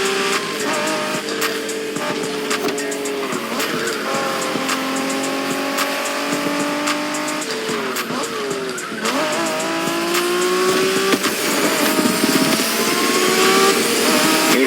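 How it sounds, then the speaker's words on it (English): Street racing in The Crew Motorfest video game, with Japanese cars' engines revving and climbing through gears while tires squeal in long skids, loud and continuous, the pitch rising and dropping through shifts and turns. "We're going for some proper Japanese street racing."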